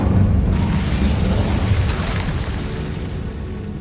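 The Incendio fire spell from Hogwarts Legacy erupts in a loud, close, rumbling blast that roars from the start and slowly tapers off.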